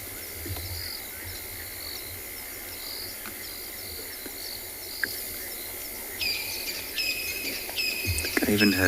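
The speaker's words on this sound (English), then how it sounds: "Crickets." Crickets chirping at night in the South African savanna at sunset, a steady high pulsing trill with faint bird and frog calls underneath, growing busier toward the end; no talking.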